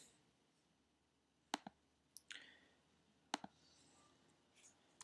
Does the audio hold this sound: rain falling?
no